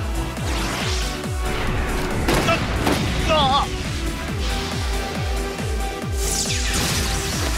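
Rapid gunfire from Deathfiddler Eagle in the Cardfight Vanguard anime, a quick rhythmic burst of repeated shots with booming impacts and a brief whistling effect in the middle.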